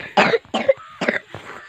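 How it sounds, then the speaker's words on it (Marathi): Four short, harsh coughs from an animal with a cough come in quick succession, close and fairly loud, with brief pauses between them. "तिला खोकला झालाय"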